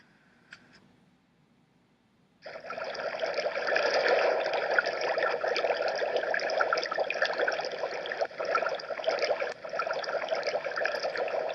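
Water heated to a boil to separate out tar: after a brief quiet start, a steady, loud bubbling and rushing hiss of churning liquid sets in and continues unbroken.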